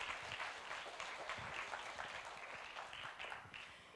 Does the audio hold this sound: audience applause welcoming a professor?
yes